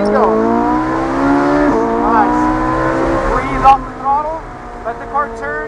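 A Ferrari on a track accelerating through a corner, the engine note rising and falling in pitch as it revs through gears, with someone talking over it close by.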